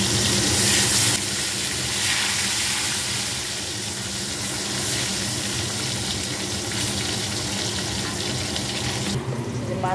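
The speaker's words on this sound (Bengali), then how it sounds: "এখন আলুটা ভাজা হচ্ছে।" Potatoes fry in hot oil that has just been used for eggplant, a steady broadband sizzle lasting ten seconds with small fluctuations and a slight drop near the end, no voices present.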